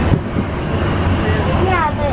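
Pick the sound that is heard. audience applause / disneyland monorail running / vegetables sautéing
disneyland monorail running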